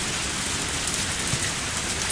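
Rain in the video game Lucky Dog 1, an even, dense hiss of steady rainfall on surfaces that continues without a break.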